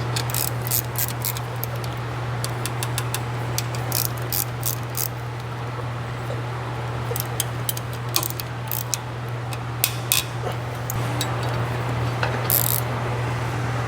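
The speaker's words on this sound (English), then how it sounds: "I like to sequentially tighten the bolts down from the front of the diff up to the side bracket" Ratchet clicking in bursts while tightening bolts on a BMS differential brace under a 2018-2022 Kia Stinger or Genesis G70, a run of sharp ticks in short, irregular groups over a steady low hum.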